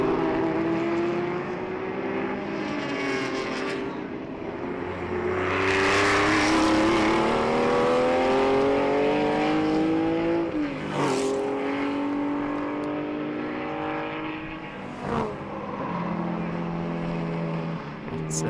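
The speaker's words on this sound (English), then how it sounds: "that is indeed a 427 Shelby Cobra" A 427 Shelby Cobra historic racing car roars loudly at a classic race meeting, its big engine revving up and down through repeated gear changes with sharp shifts between pulls.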